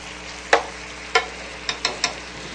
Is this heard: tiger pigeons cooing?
no